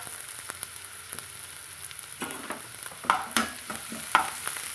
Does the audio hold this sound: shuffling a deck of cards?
no